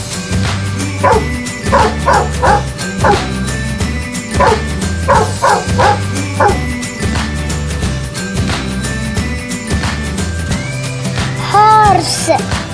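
A dog barks repeatedly in quick bow-wow bursts with a few yips and whimpers, loud and close over a steady background music bed with a voice.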